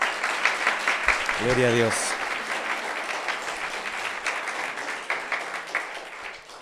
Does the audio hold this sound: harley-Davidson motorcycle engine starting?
no